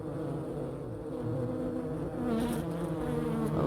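Bees swarm around honeycomb collected in a 5-gallon bucket, a dense continuous buzzing close by that swells louder toward the end.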